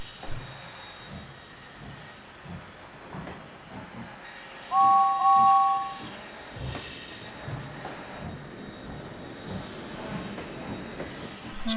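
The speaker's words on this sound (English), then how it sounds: "And Edward left with his fish train." A steam train rumbles and chuffs as it pulls away, with a short two-tone whistle sounding midway over the steady rolling clatter.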